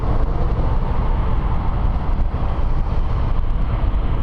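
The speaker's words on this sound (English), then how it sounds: "see this big tractor trailer passing me?" A big tractor trailer passes on a winter road, heard from inside a moving car as a steady, loud, low rumble and roar of tire and wind noise, with no talking.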